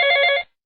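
A single short electronic telephone ring tone, loud and close, sounding for under half a second and then cutting off to silence, as a call is placed during a Hindi radio program.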